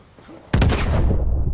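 In Uncharted 4, a grenade explosion bursts suddenly out of quiet ambience with a sharp, loud crack, then a heavy booming roar that lingers and rumbles for about a second.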